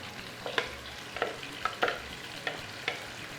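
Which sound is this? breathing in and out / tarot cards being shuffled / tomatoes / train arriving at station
tomatoes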